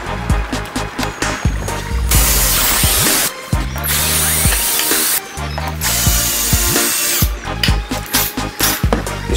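Power driver sinking 75 mm, 10-gauge screws into a 45 mm timber drum riser frame with red brackets: loud, close bursts of ratcheting whir and clutch chatter, several separate runs broken by short pauses.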